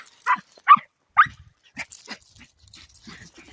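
Dog barks and whimpers in a few sharp bursts, then continues with softer yips and whines, close by and with no talking.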